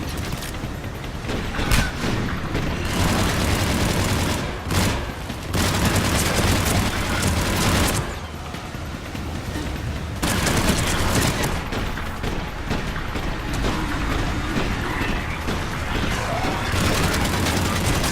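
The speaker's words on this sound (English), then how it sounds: "Give us some cover fire!" Rapid bursts of gunfire and heavy booms from combat in the video game Mass Effect 3, loud and sustained with mechanical clatter, briefly dropping out twice before the shooting resumes.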